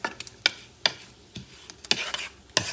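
Shrimp stew being stirred in a pan, a spoon scraping and knocking in several distinct strokes with soft sizzling between them, close and clear with no talk.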